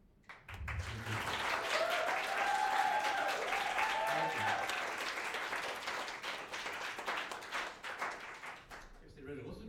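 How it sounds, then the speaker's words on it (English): Audience applause at an adult student music showcase at a music school, a sustained burst of clapping from a small crowd that swells, holds for several seconds, then tapers off, with some voices mixed in. "That was a good applause."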